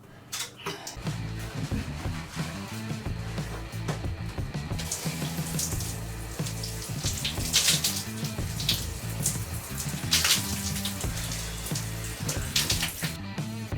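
Cold shower water runs and splashes in a bathroom, a continuous hissing spray with irregular bursts and splatters as it hits a body and surfaces, close and fairly loud, no speech.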